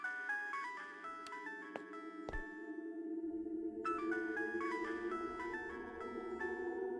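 Mobile phone ringtone in the horror video game Araya, a repeating melodic electronic tune that plays on steadily, pausing briefly and then resuming, with a few faint clicks.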